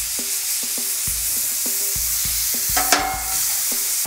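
A smashed burger patty with onions crackles on a hot griddle while it is cooked for a ramen burger. The sizzle is loud and steady, broken by rhythmic scraping and tapping from a spatula.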